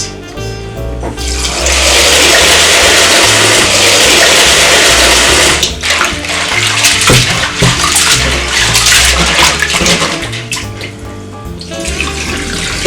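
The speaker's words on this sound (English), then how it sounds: "pour the corn in the bowl and pour some water to wash it" Water pours steadily over dried corn in a bowl with a loud, close rushing splash, then turns to sloshing and stirring sounds as the corn is swished around to wash it.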